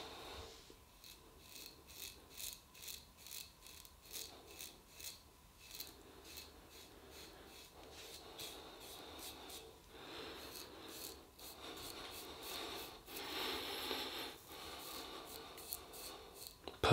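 A 1930s GEM Micromatic single-edge safety razor scrapes through stubble in quiet, close rhythmic strokes, each pass a crisp rasping crackle, with brief pauses between strokes.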